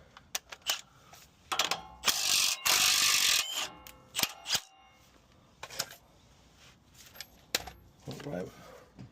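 Ratchet and socket clicking while a track bar is removed from a 2013 Ford F250 6.7 Powerstroke front end, with bursts of mechanical clatter and a loud rasping burst, under intermittent talk.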